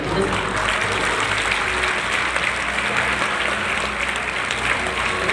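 Steady, dense applause from an audience in a Telugu lecture hall, continuous and fairly loud throughout with a faint voice murmuring beneath the clapping.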